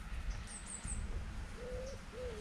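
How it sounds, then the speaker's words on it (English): Bird calls outdoors, resembling an eagle: a few high, thin whistled notes, then two lower drawn-out calls, heard at a distance over steady wind and rumble. "It's like an eagle or something. Some sort of bird."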